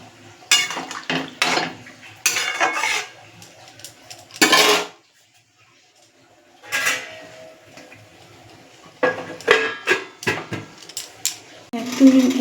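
A pot of coconut and soybean curry is handled on medium heat. Several bursts of metallic clanks and rattles from the lid and pot are separated by quiet gaps, with a short voice near the end.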